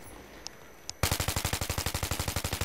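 An automatic weapon hip-fired in the Battlefield 3 beta: after a quiet second with two faint clicks, a loud rapid burst of evenly spaced shots runs to the end, close and alone.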